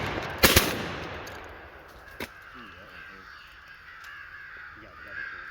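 Shotgun blasts during a crow hunt in western New York, with one loud double report near the start and a single sharper shot about two seconds later, amid outdoor noise, crow calls and quiet voices.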